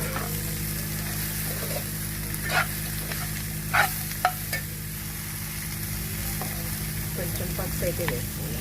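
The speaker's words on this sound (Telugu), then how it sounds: "తర్వాత ముక్కలు వేసి అలా నూనెలో మగ్గితే ఆ టేస్ట్ వేరన్నమాట." Bitter gourd pieces sizzle in hot oil in a pan, a steady close frying hiss over a low hum, with a few spatula knocks and stirring scrapes scattered through.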